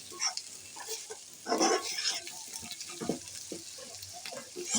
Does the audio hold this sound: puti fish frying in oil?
yes